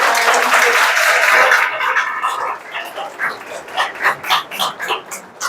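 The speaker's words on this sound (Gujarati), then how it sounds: "આપણે સૌ તાળીઓથી તેમનું સ્વાગત કરીએ" Loud, dense applause greets a visiting family at an institution for blind residents, a crowded round of clapping that fades after about two seconds into scattered individual claps with dog-like yips and barks mixed in.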